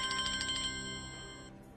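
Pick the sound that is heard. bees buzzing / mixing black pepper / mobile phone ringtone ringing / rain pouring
mobile phone ringtone ringing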